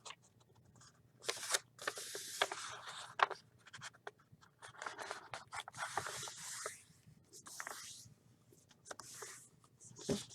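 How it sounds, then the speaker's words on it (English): Stiff paper being turned, flipped and creased diagonally while folding an origami dinosaur, a string of close, soft rustling crackles and scraping swipes in uneven bursts with quiet pauses between. "you're going to turn it and flip it over, and you're going to fold it diagonally"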